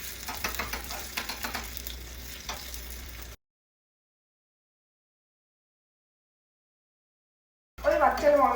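Two sliced small shallots sauté in a pan for Kannur-style ghee rice and mutton curry, giving a steady close sizzle and crackle for a few seconds. Silence follows, and then the sizzling briefly returns.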